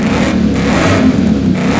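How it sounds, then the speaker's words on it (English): A 2003 Mustang Cobra Saleen clone in Forza Horizon revs hard, a loud, close, throaty engine roar with a supercharger whine, sustained through a brief rise and dip in pitch. "I'm gonna do a sound check of the engine in 3, 2, 1, and go"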